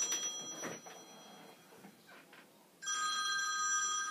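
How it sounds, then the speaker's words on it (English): A phone rings in an office, with a bright electronic trill that starts sharply near the end. Faint clicks and quiet room noise come before it. "hang on, my phone's ringing."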